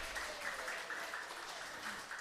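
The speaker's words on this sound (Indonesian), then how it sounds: "tepuk tangan untuk Tuhan Yesus." Church congregation at a women's world day of prayer service applauding, a sustained dense patter of clapping at moderate distance with no speech.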